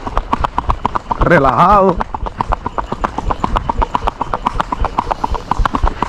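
Hooves of an Andalusian horse clip-clop in a steady, even walking rhythm, close and clear, while someone talks over them.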